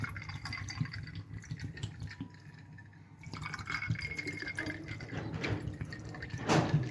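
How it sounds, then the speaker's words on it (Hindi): Cold water poured into a container to make imli aloo bukhara (tamarind and plum) sharbat, a soft continuous splashing and trickling pour with small drips, close by and moderately quiet, without talk. "व्यूअर्स, ये देखें इसमें मैं पानी डाल रहा हूँ ठंडा,"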